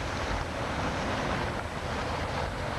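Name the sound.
running flood runoff water from turnpike pipe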